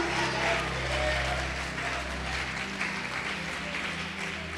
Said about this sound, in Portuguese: Você pode aplaudir e glorificar o Senhor.